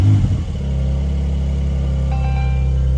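A 2022 Porsche 992 Carrera with PDK gearbox fires up with a sharp cranking burst, then settles into a loud, steady, rumbling idle close by, with a faint electronic chime joining toward the end.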